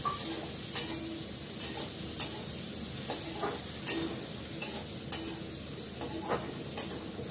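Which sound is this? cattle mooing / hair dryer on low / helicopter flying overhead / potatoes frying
potatoes frying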